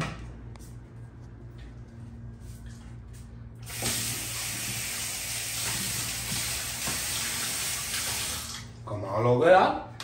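Water gushes from a tap as someone washes their face, a steady rushing hiss lasting several seconds after a quieter start, ending with a closer splash.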